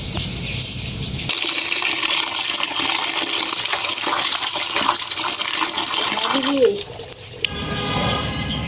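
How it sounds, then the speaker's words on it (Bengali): Water gushes steadily and loudly while cut meat is washed, a continuous rushing spray that lasts most of the clip before briefly dropping and then resuming. "এন থেকে আপনার অর্ধেকটা মাংস ধুয়ে দিব"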